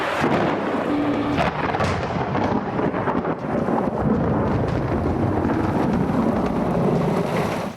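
Dense, continuous roaring wash of heavy rain pouring down in Karachi, loud and close, with gusty rumble mixed in, no voices.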